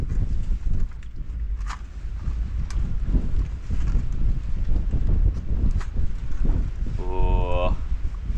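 Strong wind buffets the microphone on a hillside, a loud rumbling gust noise that rises and falls continuously, with footsteps on the ground and a short tonal beep near the end.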